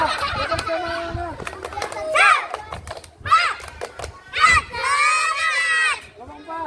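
A group of schoolchildren in a physical education lesson perform a rhythmic clapping cheer, shouting chanted words in unison between bursts of claps and thumps, loud and close, with a teacher's voice among them.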